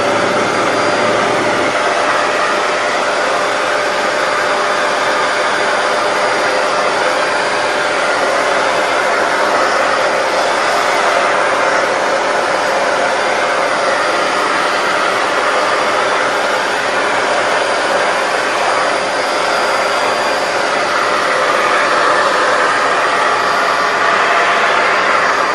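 A Shark Rotator Powered Lift Away TruePet vacuum cleaner with its extension wand fitted runs continuously, a loud, steady motor whine and airflow rush holding unchanged throughout.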